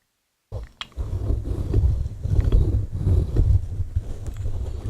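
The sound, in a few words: scissors rubbed on a microphone for ASMR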